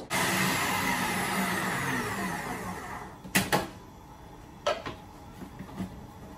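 A mixer grinder whirs loudly for about three seconds grinding almonds into a coarse powder, then stops, followed by a few sharp clunks and knocks of the jar and lid.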